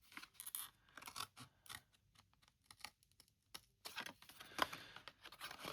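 Scissors cut paper ephemera in short, crisp snips and crunchy bursts, close and irregular, separated by brief quiet gaps.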